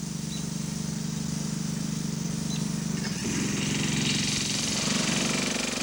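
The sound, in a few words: rototiller engine running, softening clay soil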